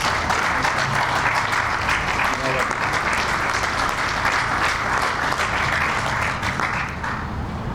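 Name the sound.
audience applause welcoming Alderman Burnett to the podium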